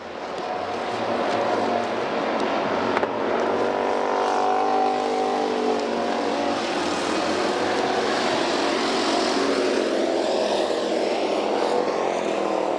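Legends stock race cars racing side by side into a turn at Bakersfield, a continuous loud engine drone with rising and falling pitch as the pack passes, with no talk.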